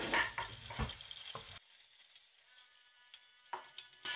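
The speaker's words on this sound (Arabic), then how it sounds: "كده الطاس الزيت سخن، هنزل فيه فص ثوم الاول" A garlic clove drops into hot olive oil in a pan and sizzles faintly with sharp crackles. The sizzling stops briefly and then picks up again, with no voices.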